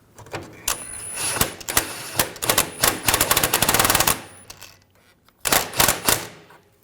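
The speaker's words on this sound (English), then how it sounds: "Use the wrench. I'm going to get the nut just snug down" Close, sharp metallic clicks of a ratchet wrench snugging a nut against a cammed washer on a 2007-2013 BMW 328i rear lower control arm, in fast bursts with a brief pause before a final run.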